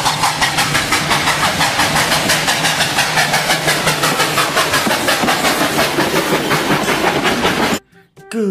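A train runs with a loud, rhythmic clattering chug repeating at a steady fast beat for about eight seconds before abruptly stopping.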